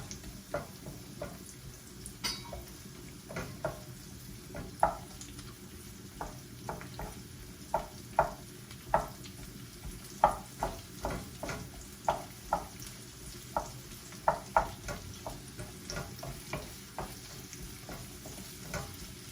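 Onion frying in a pan for a vegetable and prawn stir fry: a steady sizzle runs underneath as a utensil scrapes and taps against the pan in irregular, fairly close strokes, with no talking.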